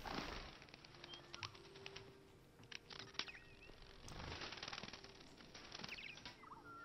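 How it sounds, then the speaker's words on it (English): Android birds in Detroit: Become Human flutter and flap their wings, quick soft wingbeat bursts with faint chirps scattered over a quiet room ambience. "got little android birds"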